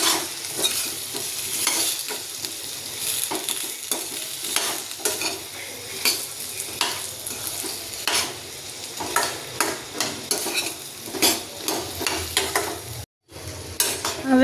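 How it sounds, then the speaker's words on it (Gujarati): Potatoes for a dry potato bhaji being stirred and fried in a pan, a continuous sizzle broken by repeated scraping clinks of a spoon against the pan, close up with no talk and a brief dropout near the end. "હવે તેમાં આપણે બટેકા એડ કરી દઈશું બટેકાને સારી રીતે મિક્સ કરી દઈશું"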